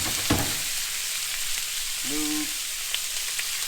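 Chicken searing in a screaming hot pan for an Asian chicken stir-fry, a steady loud sizzle filling the whole stretch, with a brief spoken word partway through.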